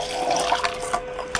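Boiling water poured from a kettle, a steady close splashing and trickling stream that runs briefly and alone, with no talk over it.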